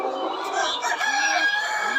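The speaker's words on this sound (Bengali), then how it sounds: "এটা হচ্ছে আমাদের লাল মুরগি ব্যাচ।" A batch of about a thousand red laying hens in a poultry farm cluck and crow in a dense, continuous chorus of close, overlapping calls.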